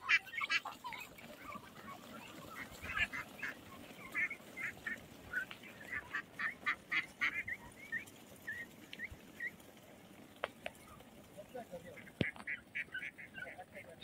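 A flock of ducks moving across a broad wetland, quacking in quick, busy bursts that continue throughout, moderately near, with faint rustling beneath.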